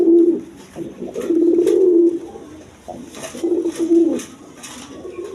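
Pigeons of various breeds kept for sale, including colored Raj Golla and Lalgorra birds, coo loudly and close by in repeated rolling phrases separated by short pauses.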